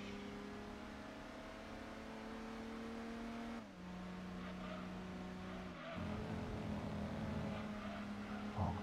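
An upgraded car in a racing video game drives with a steady, loud engine drone. The pitch drops sharply twice, like gear shifts, then climbs again as the car accelerates.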